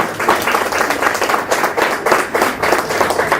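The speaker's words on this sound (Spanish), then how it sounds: "Denle un aplauso al Señor" Enthusiastic applause from a church congregation, steady rapid clapping with rhythmic swells, filling the space without any voices.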